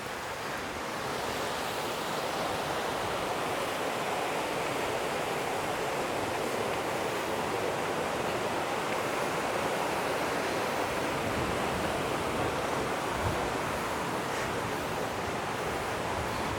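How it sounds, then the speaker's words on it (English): Strong wind roars across an abandoned bridge in New Harmony, Indiana, a steady loud broadband rush with no letup and no speech throughout. "We got some serious wind up here today."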